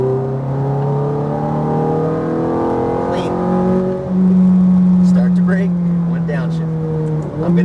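Ferrari F430 engine at full throttle on a track, a loud sustained rising whine that climbs steadily, dips at a shift and climbs again, heard from inside the car with a voice speaking over it.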